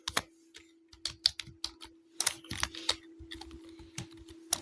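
Rapid, uneven clatter of fingers typing on a computer keyboard, with clustered bursts of keystrokes and brief pauses, close and moderately loud, no voices present.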